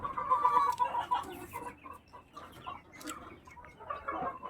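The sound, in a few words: roosters clucking on a poultry farm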